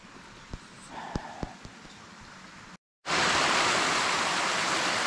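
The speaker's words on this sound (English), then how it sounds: "it decided to add a waterfall and make it quite a bit louder and wetter" A hiking stream gives way to a loud waterfall: first a few sparse clicks and splashes over quiet water, then after a brief gap a dense, roaring wash of falling water fills everything, steady and close.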